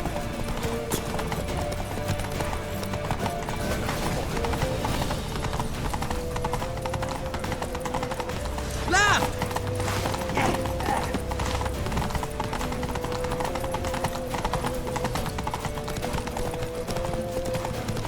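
Rapid hoofbeats of a galloping horse in the video game The Witcher 3 pound steadily throughout, with an occasional whinny and a dense background of music and effects.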